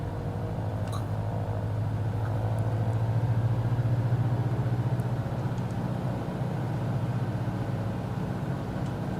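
Small aircraft engine idling on the ground in Microsoft Flight Simulator 2020, a steady low drone that holds even and continuous throughout with no talk over it.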